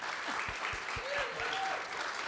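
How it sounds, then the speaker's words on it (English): Fairly faint applause from a conference session audience for a Screen Producers Association of Australia representative, a soft continuous patter of clapping with a few low thumps and a faint tonal whistle. "he can have a clap. Go on, give him one."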